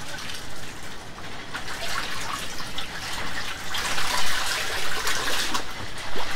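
Salted pieces are rinsed by hand in a basin of water, giving a steady splashing and sloshing with trickles and swells that grow louder toward the end.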